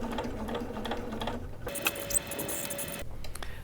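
A home sewing machine stitches the two short ends of a single welt pocket, a brief mechanical whirring burst in the middle of quieter handling sounds.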